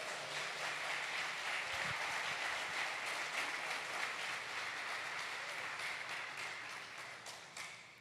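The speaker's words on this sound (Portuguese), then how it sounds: "Você pode aplaudir a Deus?" A church congregation applauding in a steady, dense wash of clapping that holds throughout, with a faint voice underneath.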